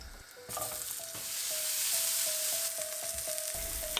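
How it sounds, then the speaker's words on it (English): Zucchini slices fry in a pan as a second batch, giving a steady, close broadband sizzle that holds for the whole stretch. A repeating high electronic tone beeps over it and a soft clatter sounds at the start. "continue to fry the second batch"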